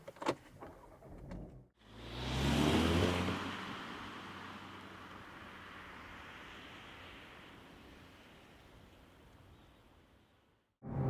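A 2015 Seat Leon Cupra 280 Performance Pack hot hatch pulling away from a parking space, with a swelling engine and road rush that peaks early and then settles into a long, steady, fading wash of noise.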